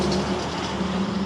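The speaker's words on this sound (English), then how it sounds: "loud truck" Loud truck rumbling past on a street in the town of Stowe, Vermont, giving a steady low roar with no speech over it.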